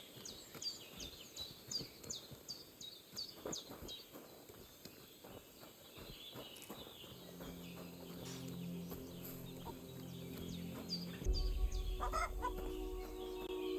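Chickens in Kingdom Come: Deliverance II cluck and call in a rapid run of short, bright notes early on, then fade under a steady low ambient drone and rumbling background sounds.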